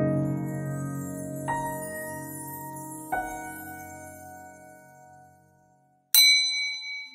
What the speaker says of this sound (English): The light ding of the bell on the door echoed loudly inside the store.